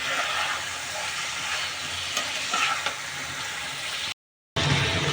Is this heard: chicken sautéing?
yes